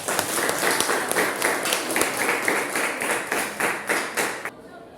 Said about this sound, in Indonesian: Ya, kita beri aplaus untuk kelompok 2.